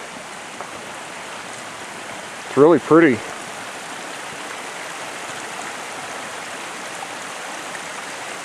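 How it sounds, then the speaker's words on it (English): Constant broadband rush of Seneca Creek, West Virginia, flowing close and steady, with a short spoken remark briefly over it. "Yeah, you can hear it flow."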